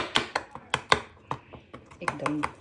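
A chickpea salad being stirred with green chutney dressing in a bowl, a steady run of close, crisp spoon taps and scrapes against the dish, with a brief voice near the end.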